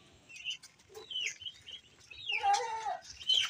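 Farm ducks near their cage give a series of short, nasal quacking calls, fairly quiet and close, with irregular bursts and no one talking.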